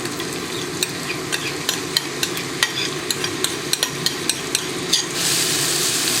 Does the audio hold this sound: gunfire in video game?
no